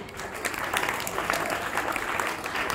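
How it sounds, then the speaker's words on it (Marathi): An audience at a children's camp certificate and prize distribution in Buldhana claps in a steady, moderately loud round of applause, with a faint murmur of voices mixed in. "टाळ्या."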